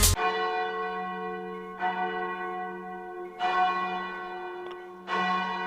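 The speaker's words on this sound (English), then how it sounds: "The bell tolls." A church bell tolls four times at steady intervals, each strike ringing out and slowly decaying into the next, moderately quiet and alone.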